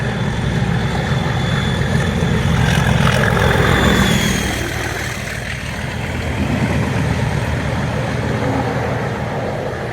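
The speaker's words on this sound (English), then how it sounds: "just listen to that growl, man." A deep diesel locomotive engine, a Class 37, growls steadily, loud and rumbling, swelling slightly before settling into a constant throb.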